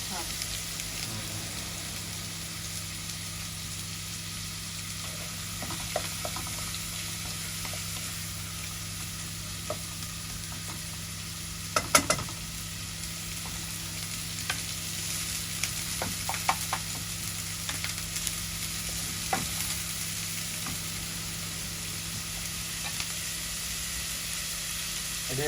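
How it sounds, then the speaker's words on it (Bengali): Radish greens fry and are stirred in a pan, a steady soft sizzle running throughout with occasional scraping and knocks of the spatula, one louder clatter midway. "এই শাকের জন্য প্রায় ভাজা হয়ে গেছে"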